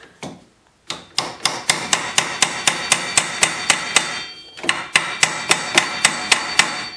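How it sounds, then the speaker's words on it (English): A hammer drives a chisel into a ball joint clamp on a 2009 Polaris Ranger 700 XP, with a first blow and then two quick runs of regular, close, sharp metallic strikes separated by a short pause. "I'm driving a chisel in there to spread this out, and then that lets this pull out"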